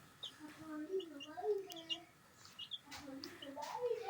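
Hens cluck in low, wavering calls, close by and fairly soft, with occasional higher chirps over a quiet background.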